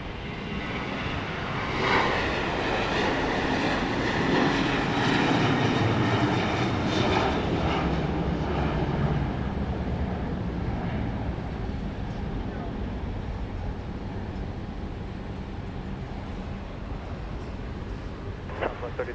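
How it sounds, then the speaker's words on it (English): A jet airliner's engines roar steadily at Dallas Love Field Airport on a Saturday night, a broad sustained rumble heard from a distance during plane spotting. "I'm relaxed to watch airplanes in the evening"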